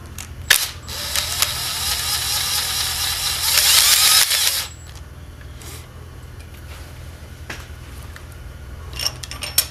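A torque wrench tightens oiled cylinder head bolts on a Subaru engine, giving a run of close ratcheting clicks that builds to a louder stretch, then a few scattered clicks and handling noises.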